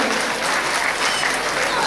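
Audience clapping at a Navratri music concert at the Shri Ambabai temple in Hupari, a short burst of dense, steady applause from a crowd.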